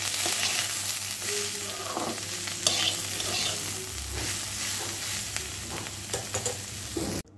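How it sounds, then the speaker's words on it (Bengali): Frying bitter gourd crackles in a pan while a spatula stirs it with frequent scrapes and clacks over a constant close sizzle, then the sound cuts off abruptly at the end. "হয়ে যাবে উচ্ছে ভাজা।"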